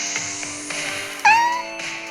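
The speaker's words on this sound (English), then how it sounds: "Fiona also has with her black rescue cat Annie" A black rescue cat gives a single loud, drawn-out meow that rises and then trails off, standing out clearly over a faint steady background hum.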